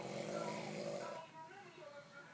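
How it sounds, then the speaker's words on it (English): A person snores loudly and close by, rough and rasping at first, then easing into a quieter, wavering breath. "bruh, it's snoring loud"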